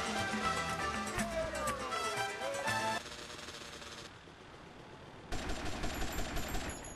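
Gunfire in the GTA Vice City video game, rapid repeated shots over busy game sound for the first three seconds, then quieter stretches and a later burst of rattling fire.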